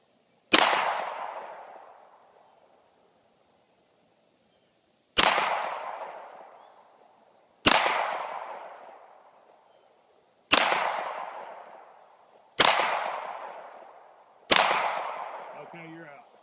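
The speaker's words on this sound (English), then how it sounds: "Gun shooting high and to the left." A handgun fires six separate loud shots at an outdoor shooting range, each a sharp crack with a long decaying echo, spaced a few seconds apart with no talking between them.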